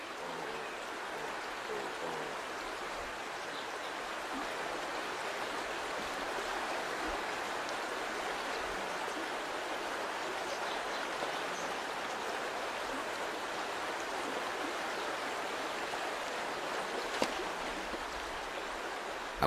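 A fast-flowing river current, a steady broadband rush of water at moderate level, continuous and even throughout with no voices.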